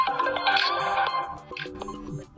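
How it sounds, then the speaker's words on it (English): A ringtone preview plays from an Honor X6 phone, a bright melodic tune with layered tones, steady and fairly loud for a couple of seconds, with no talk over it. "if you want to listen how the particular ringtone sounds before setting it,"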